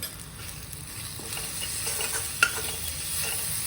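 Spices such as hing, kitchen king masala and onion-garlic chilli masala roast in a pan for an egg dish, a steady soft sizzle with light scraping stirs and one sharp clink near the middle.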